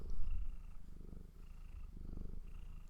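Close, soft cat purring with a rhythmic low rumble rising and falling with each breath, steady and continuous with no talking.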